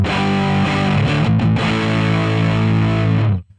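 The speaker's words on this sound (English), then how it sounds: "I'll back off the drive there just to see what that sounds like." Electric guitar through a digital distortion effect with the drive turned down, a loud, thick overdriven chord and single-note riff played alone for a few seconds before cutting off abruptly.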